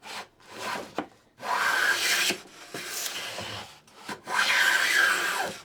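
A hand plane with a magnetic square-edge fence shaves full-length curls off a wooden board, giving long rasping strokes, each a loud, steady scrape with short quiet gaps between passes.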